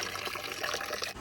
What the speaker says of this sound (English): As you can see, the water comes out very strong and consistently, so the pressure relief valve is definitely leaking